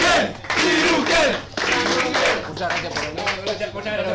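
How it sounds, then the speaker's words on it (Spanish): A crowd at a Super Smash Bros. Ultimate tournament in Argentina applauds and cheers loudly, with clapping and shouts filling the whole stretch alongside a talking, shouting voice. "Un aplauso para Ryuken."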